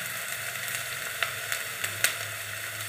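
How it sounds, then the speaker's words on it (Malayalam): Steady sizzle of onions and spices sautéing in a pan for North Indian aloo matar (potato and green peas) gravy, a constant crackling hiss broken by a few sharp pops and soft stirring scrapes. "നല്ലതുപോലെ വഴറ്റി കൊടുക്കാം"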